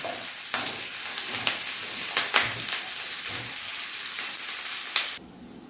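Buffalo meat pickle with garlic and curry leaves sizzles in a pan while being stirred, the constant frying hiss broken by repeated scraping strokes of a spoon before the sound drops away abruptly near the end.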